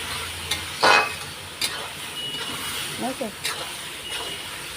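Peas and masala frying and being stirred in a pan give a steady low sizzle, with a few louder scraping bursts from the spoon and a voice talking faintly over it.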